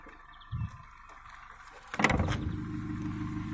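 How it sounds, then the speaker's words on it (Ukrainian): Volkswagen Golf 4 engine idling steadily near the rear of the car, with a brief thump and then a rise in engine noise that settles back into a continuous low running hum. "Але моторчик працює."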